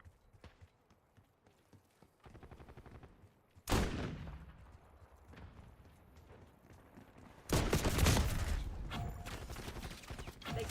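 Bursts of gunfire in a military video game, loud cracking volleys at intervals over a quieter background of distant mechanical clatter and game effects.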